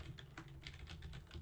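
Quick, steady keystrokes on a computer keyboard, a close, quiet run of clicky taps with no speech over a low background hum.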